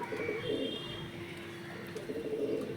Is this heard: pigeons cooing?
yes